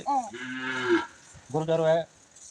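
A cow moos twice, close and loud: a short low call, then a longer drawn-out one after a brief pause.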